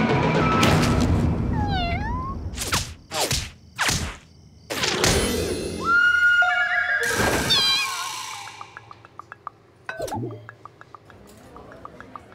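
A kitten lets out several short, high meows between bursts of thumps and rustling handling noise, with the sounds fairly close and scattered irregularly across the stretch.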